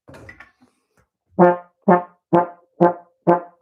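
Five short, sharply tongued notes on a wind instrument, each attack crisp and separated by brief gaps, after a faint breathy start.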